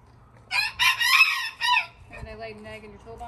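A backyard rooster gives one loud, close crow, followed by softer clucking from hens in a garden setting.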